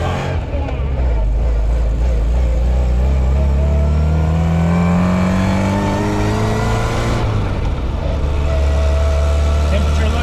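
A Fiat 124 Sport Spider, an old car on old tires after years of sitting, running steadily from inside the cabin, with loud continuous engine drone and road rumble and a rising then falling pitch as it accelerates and shifts.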